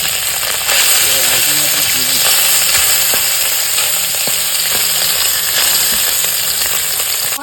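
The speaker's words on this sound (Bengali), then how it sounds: "মাছগুলো ভাজা হয়ে গেছে, এখন নামাই নেব। বেশ ভালো করে সুন্দর করে ভাজছে" Fish sizzles and crackles steadily in hot oil in a village kitchen, with constant bright frying hiss throughout and occasional stirring or handling noises.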